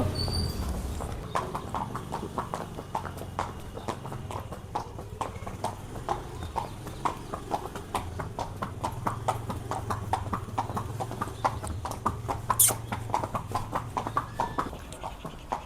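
Hooves clip-clop in a steady, even walking rhythm on a hard surface, close by, continuing throughout with a brief sharp noise near the end.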